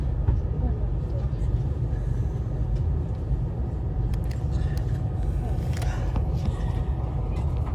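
A train heading toward London Euston rumbles loudly and steadily from inside the carriage, with a deep low-frequency drone, a few faint clicks and rattles, and no clear talking.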